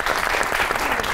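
A studio audience claps for a poetess invited to recite on a comedy talk show, a brief continuous burst of applause filling the moment without pause.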